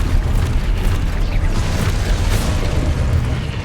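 Booming magical blast of the Expulso explosion spell in the video game Hogwarts Legacy, a loud, dense low rumble that holds steady throughout with crackling bursts layered over it.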